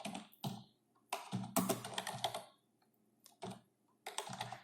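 Computer keyboard keys typed in quick bursts of clicks, separated by short pauses, close and clear in a quiet room with no talking.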